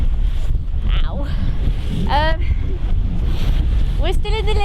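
Strong wind gusts roar steadily across the microphone with rushing water and sailing noise while racing a Squib sailboat, as a voice cries out briefly now and then.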